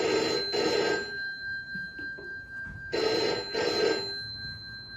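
Landline telephone ringing in two double bursts, each pair of loud electronic trills separated by a pause, close and clear with a faint background hum.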